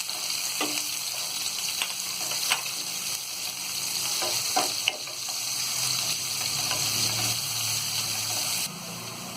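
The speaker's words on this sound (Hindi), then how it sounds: "अब ये जो कटी प्याज है इसमें हम डाल देंगे और प्याज को हम गोल्डन ब्राउन होने तक फ्राई करेंगे।" Chopped onions fry toward golden brown in a hot pan, sizzling steadily with a constant crackling hiss and occasional soft stirring taps.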